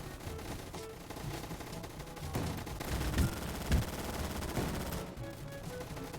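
Rapid automatic gunfire in the Roblox game Gunfight Arena, a continuous rattle of shots at moderate level with a few sharper bangs standing out near the middle.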